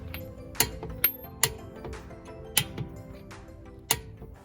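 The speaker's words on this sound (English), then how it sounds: "Torque the nuts to 76 foot-pounds." Torque wrench tightening wheel lug nuts on a 2016 Lexus IS350 AWD, a series of sharp metallic clicks spaced irregularly over a faint mechanical ratcheting background, close and fairly quiet.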